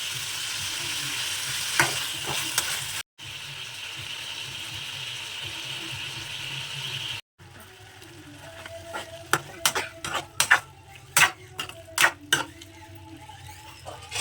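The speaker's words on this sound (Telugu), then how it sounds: "గ్యాస్ స్టవ్ పెట్టుకుంటే అప్పుడు కొంచెం ఫ్రై అవ్వాలి. ఏంటంటే కొంచెం తిప్పుతూ ఉండాలి, లేదంటే అడుగు పట్టేస్తుంది" Masala of tomato and coriander powder frying in a pan on a gas stove for a chicken liver fry, a steady close sizzle broken by two short gaps, then a run of sharp spoon scrapes and clacks as it is stirred.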